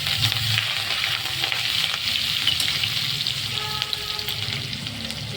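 Chopped chillies fry in hot oil with cumin seeds, peanuts and asafoetida as a spoon stirs them around the pan, giving a busy close crackling sizzle with scraping under it and no talking.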